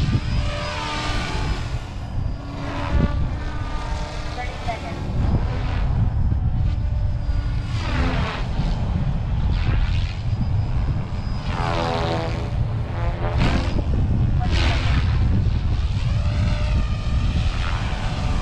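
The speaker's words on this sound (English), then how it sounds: "great flying helicopter. Very solid, very stable." An SAB Goblin 380 RC model helicopter drones with a high, whirring motor whine that rises and falls in pitch as it holds position nearby in windy conditions, loud and continuous, no voices.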